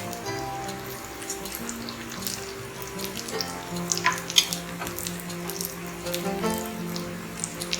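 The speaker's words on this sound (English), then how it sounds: "Now we're going to roast the bananas like this." Banana slices roasting in ghee in a pan give a steady crackling sizzle with scattered sharper pops, continuous and fairly close throughout.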